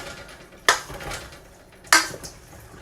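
Tomato basil soup ingredients mixed in a dish, two sharp metallic clinks of a utensil against the container over a soft scraping background, close and otherwise quiet.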